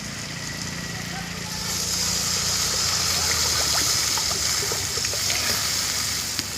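Water pours into ground masala paste sizzling in a pan while a fish curry cooks, giving a steady hissing, splashing rush that grows louder partway through, with a voice talking over it.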